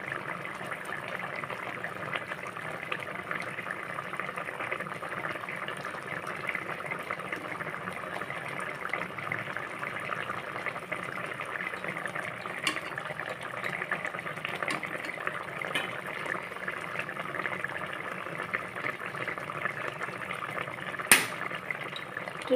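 Mirka fish curry bubbling steadily on a stove, a soft continuous simmer and boil held at low level throughout, with one brief faint clink near the end.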